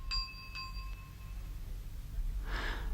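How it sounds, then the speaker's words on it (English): A porter rings a door bell: two bright metallic strikes early on, each leaving a sustained ringing tone that fades, followed by a short breathy noise near the end, all fairly quiet over a low background rumble. "rang the bell."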